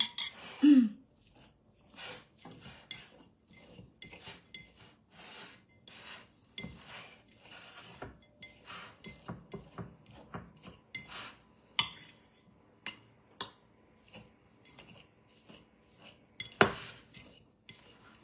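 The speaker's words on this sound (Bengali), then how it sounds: "আপনি যখন এরকম একটা কাঁটা চামচ দিয়ে এই ডিমটাকে ম্যাশ করবেন" A fork mashes a boiled egg in a Bangladeshi home kitchen, giving a quick run of close, light scraping clicks and taps of metal on the dish, with no talking.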